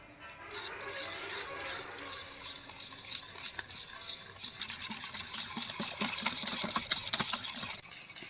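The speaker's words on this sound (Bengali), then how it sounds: "দই চিনি আর তেলকে একসঙ্গে খুব ভালো করে মেশাতে হবে" Yogurt, sugar and white oil are beaten together in a bowl for a semolina cake batter, giving rapid, repeated wet scraping and clinking strokes that grow busier toward the end, nearby and with no talk.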